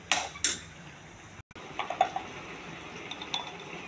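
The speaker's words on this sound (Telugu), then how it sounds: "దీన్ని మనం మాడిపోకుండా కలుపుకుంటూ ఉండాలండి." A spoon stirring a peanut powder spice mixture in a cooking pot, with several metallic scrapes and clinks against the pot, a brief break, then softer scraping.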